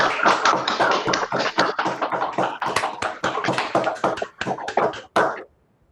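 An online audience claps after a talk at Code BEAM America, with dense overlapping claps from unmuted participants that rattle on for about five seconds and then stop abruptly.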